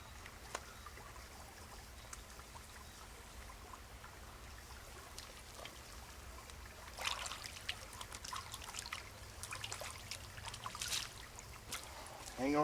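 Creek water trickles softly and steadily, faint and close, with a few louder splashes and rustles toward the end.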